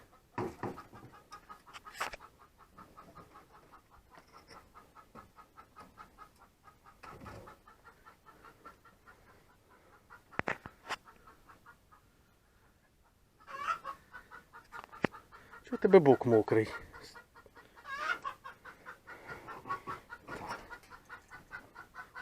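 Chickens cluck softly in scattered bursts nearby, with occasional louder squawks and a brief spoken remark partway through.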